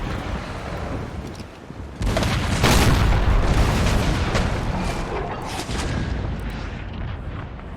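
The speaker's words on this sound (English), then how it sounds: "Oh, we're gonna get a broadside." Heavy cannon broadside from sailing warships in the pirate campaign of Empire: Total War, a dense rumbling barrage of booming shots that swells loud at about two seconds and rolls on continuously.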